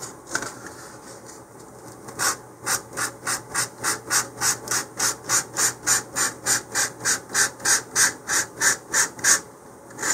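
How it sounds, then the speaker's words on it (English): Sandpaper rubbed back and forth along a cardboard body tube of a LOC Precision Magnum model rocket, about two dozen regular, evenly spaced rasping strokes, close and clear with no talk. "So I need to sand that as well."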